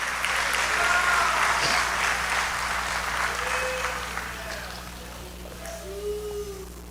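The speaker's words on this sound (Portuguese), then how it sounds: "Você pode aplaudir o Deus Espírito Santo pelo selo dele sobre a sua vida?" A church congregation at an Assembly of God service in Guarulhos applauds, producing a dense, sustained clapping that gradually softens. Faint voices and cheers rise briefly above it, and a steady low hum runs underneath.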